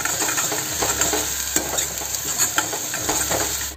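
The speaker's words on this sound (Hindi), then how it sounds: "प्याज लगभग भुना नहीं हो चुके, थोड़ा देर और भून रही हल्को से।" Onions being sautéed in a pan for a Pahadi dish, a dense continuous sizzle with repeated scraping stir strokes, close and fairly loud with no talking.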